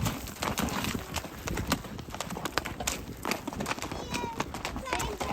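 Several horses being ridden, hooves clip-clopping in a steady, fairly close rhythm over a constant outdoor rumble, with people talking across it.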